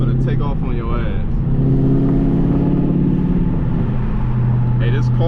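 Dodge Scat Pack engine running loud and rumbling close by during a late-night drive, a steady deep drone with swells of revving, while someone talks over it.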